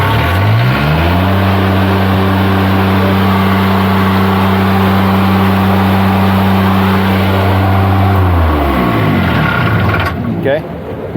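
Kubota engine on a Niftylift HR17 access platform racing at steady high revs from a control-side short circuit, a loud sustained drone that holds level for several seconds, then winds down and cuts out.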